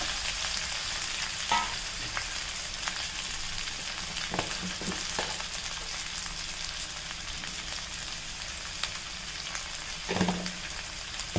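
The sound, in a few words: boiled potatoes sautéing in oil for potato masala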